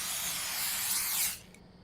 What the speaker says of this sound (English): and then you hear it spraying.